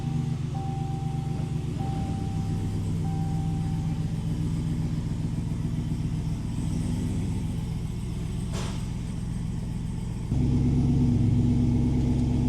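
Ford Cobra II parts car engine running steadily at a low rumble, with a faint periodic whine and a short click, then stepping up to a louder, higher idle near the end, with no talk.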